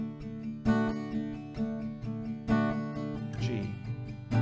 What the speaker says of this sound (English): So one chord progression will sound like this with strumming.